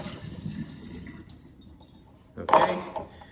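Tap water rushes into a mixing bowl to rinse it out in a home kitchen, a short splashing surge near the end after soft background noise.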